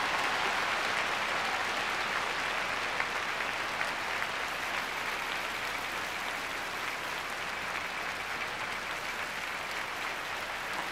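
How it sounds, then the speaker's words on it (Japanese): A large audience at a 1998 NHK Trophy figure skating exhibition claps steadily in rhythm, calling for an encore, a continuous even wash of hand claps heard from a distance at moderate level with no talking. "この手拍子に応えてくれると思います。"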